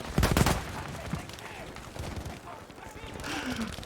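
Battlefield V match gunfire crackles in quick bursts, with a loud cluster of shots near the start and scattered rounds after, while a commentator's voice talks over the game audio.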